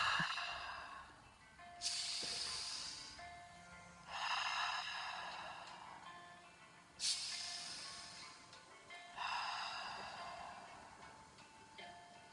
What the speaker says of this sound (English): take 3 very conscious inhales through the nose and exhales through the mouth